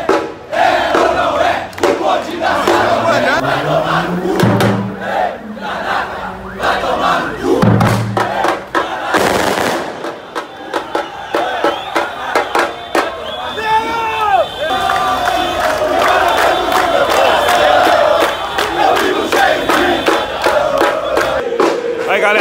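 Cruzeiro football supporters protest in the street outside the club, a large crowd chanting loudly and steadily, with shouts and bursts of voices rising throughout.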